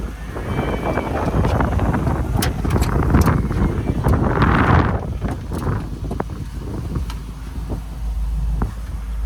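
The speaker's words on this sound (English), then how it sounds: "Windy day." Wind buffets the microphone in a steady low rumble with gusty surges throughout, no voices heard.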